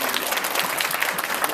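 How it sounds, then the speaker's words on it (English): Audience applause follows a motivational speech: brisk, dense clapping from a crowd, close and fairly loud, holding steady for the short span. "Please give her a round of applause"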